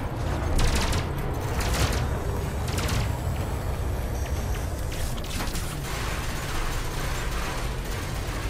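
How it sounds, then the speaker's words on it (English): Sustained rapid machine-gun fire from a ship in the space game Elite Dangerous, dense and continuous across the whole stretch with a few sharper bursts standing out, no talk. "Love having my own machine guns, I tell you that."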